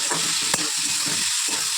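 Potatoes and tomatoes sizzling in hot oil in a pan, with a spatula scraping and stirring in quick, repeated strokes over a constant close frying hiss.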